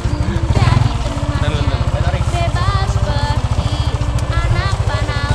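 A motorcycle engine chugs loudly and steadily up close near a waterfall at Gunung Bunder, Bogor, its rhythmic low pulsing continuous, while people talk over it.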